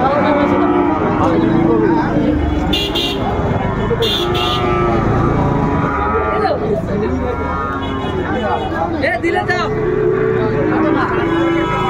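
Sahiwal bull calves and other cattle at a busy livestock market, with lowing moos rising over a dense crowd din, voices talking throughout and occasional vehicle horn toots.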